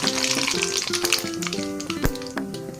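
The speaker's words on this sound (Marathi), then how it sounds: "तेल गरम व्हायला ठेवले दोन चमचे तेल टाकले आता एक चमचे मोहरी टाकते" A spoonful of mustard seeds sizzling in two spoons of hot oil for a quick vegetable dish, a dense, close crackling fry with a sharp pop near the end and faint tonal sounds in the background.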